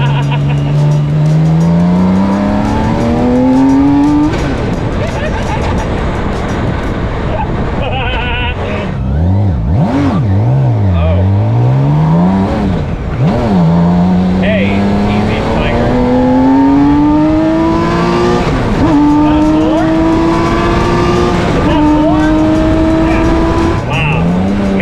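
A Demon car engine revs hard and repeatedly, its pitch climbing and dropping with bursts of acceleration and brief tire squeal, loud and close, with voices talking over it.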